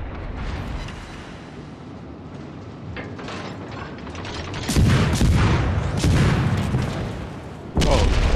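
Artillery shells strike a designated target in a video game, two heavy, rumbling impacts landing about three seconds apart after a stretch of low mechanical clatter and whirring.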